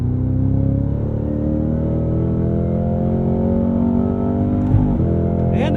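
BMW M5 Competition accelerating hard under load, a loud steady engine drone rising in pitch from inside the cabin, with a brief break near the end suggesting a downshift blip.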